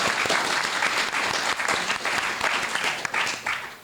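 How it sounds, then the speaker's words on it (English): A studio audience claps in a loud, sustained round of applause that holds steady for about four seconds before starting to fade. "Give Faye a huge round of applause."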